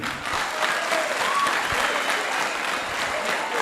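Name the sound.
audience applause for a speaker at a youth conference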